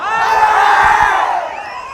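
A huge crowd at a TVK political rally in Erode cheers and roars loudly, a dense sustained wall of shouting voices that swells and then slowly eases off.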